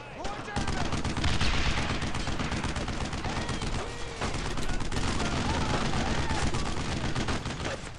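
Heavy continuous small-arms and machine-gun fire in the WWII shooter Brothers in Arms: Road to Hill 30, loud and close, with overlapping bursts and booms and voices shouting beneath the battle noise.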